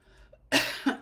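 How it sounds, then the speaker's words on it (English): A single sharp cough during a spiritual show, close and fairly loud after a quiet moment, followed by a brief second burst. "I just coughed."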